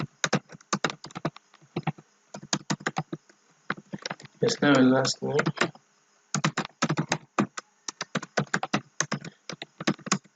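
Keys clatter on a computer keyboard in quick bursts of typing with short pauses, close and crisp, while a person briefly speaks in the middle.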